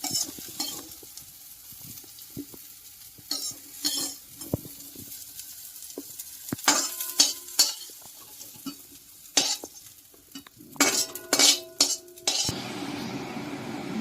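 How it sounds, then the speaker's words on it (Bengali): Cauliflower frying in oil in a kadai, a steady close sizzle punctuated by repeated scraping stirs and metallic clinks of a spatula against the pan. "ফার্স্টে আমি কপিটা ভেজে নেবো ভালো করে।"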